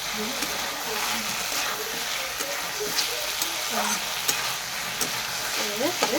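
Fish frying and sizzling in a pan over low heat, with a utensil stirring and scraping now and then; a steady close hiss runs throughout, broken by brief clinks.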